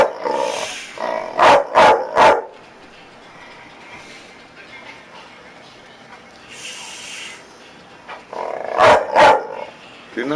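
A dog barking in two loud bursts of three or four sharp barks each, separated by a long quieter stretch with faint background noise.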